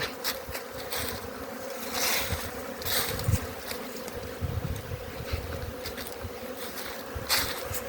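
Honeybees swarm on cleansing flights around apiary hives on a mild winter day, a dense, continuous buzz with individual bees droning loudly past close by.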